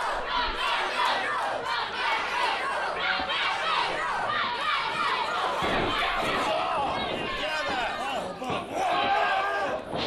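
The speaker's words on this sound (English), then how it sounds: "the more the crowd hollers rock and roll" Wrestling arena crowd hollering and cheering loudly and continuously during a match, with commentators talking over the din and occasional thuds from the ring.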